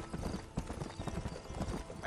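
Horse hooves clip-clop steadily in Red Dead Redemption while riding, a close, even trot layered with game ambience and what may be a brief whinny near the end.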